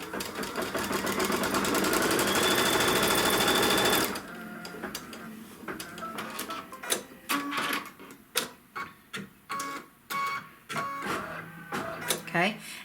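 Embroidery machine stitching a quilt trim line: steady, rapid mechanical stitching for about four seconds, then a series of separate clicks and short stitch bursts.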